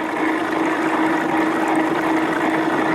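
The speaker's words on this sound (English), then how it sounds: "I'm going to cut my water flow down just a little bit" Water rushing steadily through a gold recovery sluice, a loud continuous close-up wash with no pauses and no voices.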